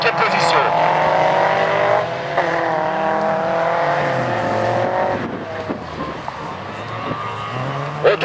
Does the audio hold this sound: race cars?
yes